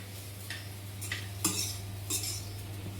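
Curry and rice get mixed together in a kadai, with a spoon scraping and clinking against the metal pan in a few distinct strokes over a low steady hum, close up and without speech.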